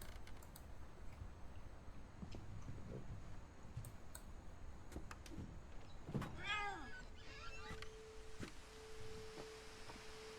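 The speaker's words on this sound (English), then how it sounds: "Although I did hear the cat just now." A single short cat meow rises faintly out of quiet game ambience in What Remains of Edith Finch, surrounded by soft clicks, creaks and a brief mechanical hum.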